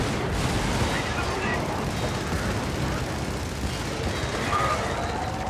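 Tank cannon fire and battlefield gunfire in a combat video game, a dense continuous roar of shots and blasts with no clear pauses, loud and close.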